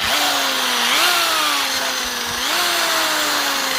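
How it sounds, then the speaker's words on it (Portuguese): A close, loud electric drill whines steadily, its pitch rising and falling as it bores a hole in a bonsai pot. "Com o uso de uma furadeira e uma broca."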